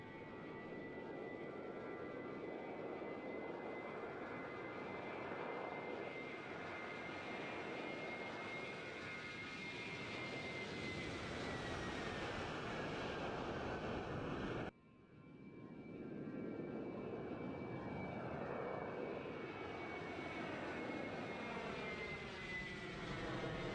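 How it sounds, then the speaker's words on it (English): An Airbus A319 in a flight simulator game takes off, a loud, steady jet engine roar with a whining tone that shifts in pitch, briefly cutting out partway through before the continuous rumble resumes. "This video shows the plane taking off and some of the ground reflections of the sound."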